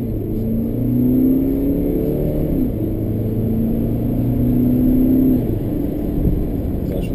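A BMW X1 2.0d xDrive diesel pulls hard in first gear, its engine note climbing steadily and loudly from inside the cabin before easing off near the end.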